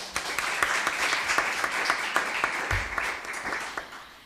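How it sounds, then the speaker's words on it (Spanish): An audience at a conference on domestic employment applauds steadily, a continuous wash of many hands clapping at moderate loudness, alone without talk. "un fuerte aplauso para ella"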